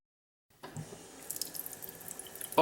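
Tap water runs steadily into a bathroom sink during tooth brushing, starting after a brief silence and continuing as a close, continuous splashing hiss with small droplet spatters.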